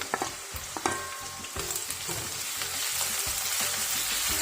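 Sliced ginger and green chillies sizzle loudly in hot oil in a pan for a tamarind pickle, a continuous crackling hiss with a few spoon scrapes and taps early on, close and alone.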